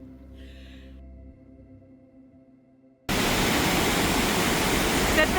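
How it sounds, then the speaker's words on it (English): A waterfall in Norway, Lemonsjøen Waterfall, bursts in suddenly as a loud, dense, steady roar of falling water and spray after a few seconds of quieter tonal background. "Waterfall."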